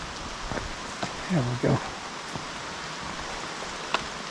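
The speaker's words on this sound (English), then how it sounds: "It just won't stop raining." Steady rain falling outdoors on a fishing trip, soft and continuous with scattered drops, while a person speaks briefly near the middle.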